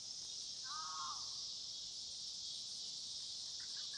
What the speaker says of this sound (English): You should listen and then let the cicadas talk, and that will be at the end of your video.